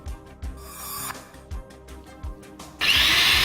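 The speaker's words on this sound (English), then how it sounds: "drill holes on the marked points with the drilling machine" Short mechanical bursts repeat rhythmically, then a high whining electric drill bites loudly into a wall, drilling screw holes for a split air conditioner indoor unit, and continues steadily.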